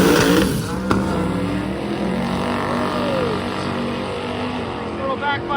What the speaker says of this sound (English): Little backfire out of the Nova.